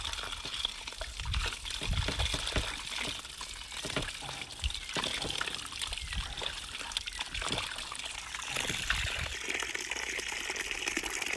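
Tap water runs steadily over a cornmeal-coated fish as it is rinsed clean, a continuous close splashing trickle with the flow changing as the fish is moved, and faint voice in the background.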